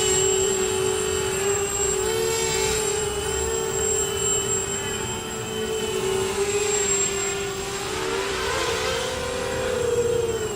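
Naze32 acro quadcopter of about 513 grams, carrying a camera and video transmitter, its motors screaming at full throttle in a steady high-pitched whine with shifting tones as it maneuvers, loud and continuous throughout.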